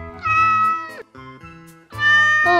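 A house cat meows in a few drawn-out, expressive calls, loud and close, with short pauses between them.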